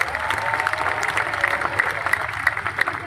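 A crowd at a political event in Haryana claps steadily and enthusiastically, a dense wash of applause continuing throughout without a break.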